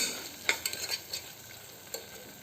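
Masala for broken wheat pulav frying in oil while being stirred, a soft continuous sizzle broken by a handful of sharp spoon scrapes and clinks near the start, with no talking.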